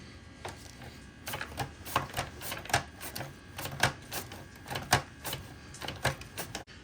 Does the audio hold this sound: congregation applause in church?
no